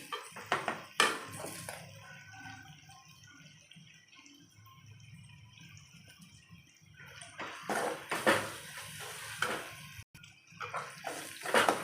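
Water is poured into a cooking pan while making rava kichadi, with splashing bursts at the start and again near the end separated by a quieter stretch, moderately close.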